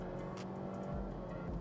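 A Honda CR-V with a small engine accelerates in sport mode, its steady engine drone heard from inside the cabin, fairly quiet and continuous with no talking.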